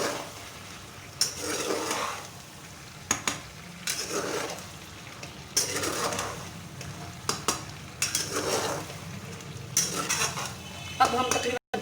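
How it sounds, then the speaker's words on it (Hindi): Aloo fry with green chili and coriander is stirred in a pan, a spoon scraping and clinking against the metal in repeated bursts over a soft sizzle. "अब हम इसमें सब्ज मिर्ची डालेंगे, धनिया डालेंगे और इसकी अच्छी तरह से मिक्स कर लेंगे"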